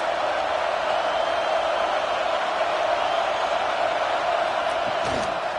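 A stadium crowd roars in a simulated college football video game, Nebraska against Miami (Ohio), as a loud, steady wash of cheering and noise with a brief thump near the end.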